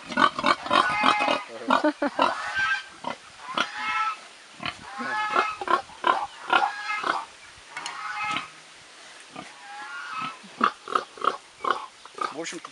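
A large pig lying on a farm on Phu Quoc, Vietnam, grunting and snorting in a steady run of short, close, fairly loud oinks with no talking.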